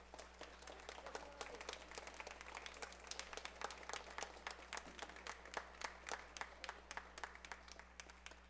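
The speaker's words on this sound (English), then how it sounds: "So how about a nice round of applause for the percussion ensemble." Applause from a school band concert audience after the percussion ensemble of 6th and 8th graders plays, steady dense clapping throughout, fairly distant and soft with a constant low hum beneath.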